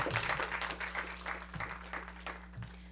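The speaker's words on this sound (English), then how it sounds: "I think that deserves a round of applause." Faint applause from an audience at a county council proclamation for Minority Health Month, with scattered clapping bursts over a steady electrical hum.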